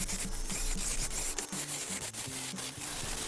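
Osage Orange wood turning on a lathe, with a continuous scraping, rasping cut under a steady motor hum and rhythmic catches as the tool peels shavings, loud and close with no talk.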